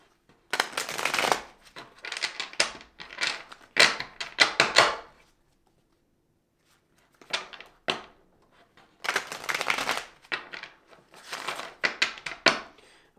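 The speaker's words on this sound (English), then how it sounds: "I think I'm going to shuffle one more time here" Tarot cards being shuffled in several quick riffling bursts, close and crisp, separated by short pauses of silence.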